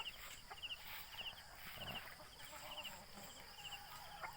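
Native chickens in an early-morning backyard under banana plants, repeated soft clucks and short calls at middle distance over a steady rural ambience.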